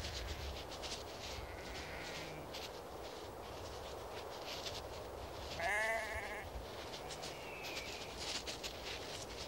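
Bighorn sheep in the Montana Rocky Mountains, three rams competing for a ewe: one short bleat rises midway over steady outdoor ambience, fairly faint and distant.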